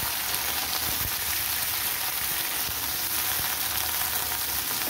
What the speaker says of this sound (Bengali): ঢ্যাঁড়সগুলো ছেড়ে দিই। ঢ্যাঁড়সের সাথে ভালো করে মিশিয়ে নিচ্ছি।